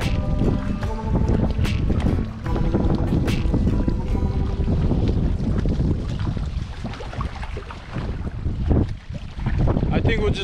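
Wind gusting across a lake during a canoe trip in the Boundary Waters wilderness, a steady loud rush with buffeting microphone noise throughout, and brief voices underneath.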